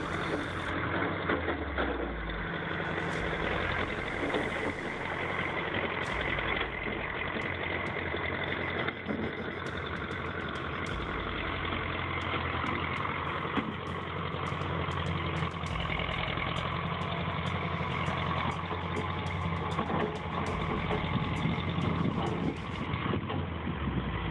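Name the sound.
bulldozer moving slowly through snow in a snowstorm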